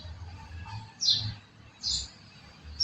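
Birds outdoors chirp in a few short, bright tweets spaced about a second apart, moderately close, over faint low rumbling from vehicles and nearby construction.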